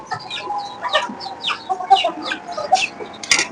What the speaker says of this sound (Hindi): ये देखिए मुर्गियां देखिए।